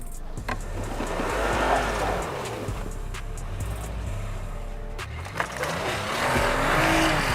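Toyota Highlander SUV with its center clutch locked and traction control switched off, engine revving hard as it climbs an off-road obstacle; loud, sustained engine drone with pitch swells and tire noise throughout.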